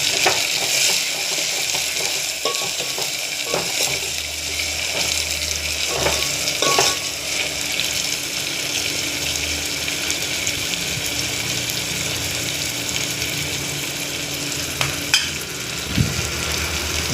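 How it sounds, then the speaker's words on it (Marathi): Cowpeas frying in a pan with onion, tomato, cumin and mustard seeds give a steady, dense sizzle throughout, with occasional stirring clicks and scrapes, close and fairly loud, with no talking. "मस्त भाजून घेतलाय कांदा, टॅमॅटो, जिरं, मोहरी"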